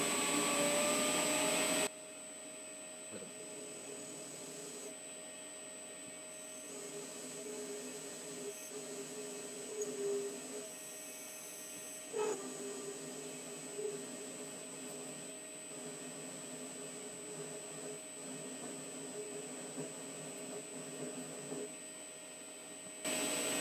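A WEISAN WM210F400 benchtop metal lathe spinning at about 500 to 600 rpm cuts off a 20 mm metal rod, giving a steady whining motor drone with faint tonal ringing and occasional small bumps from the cut.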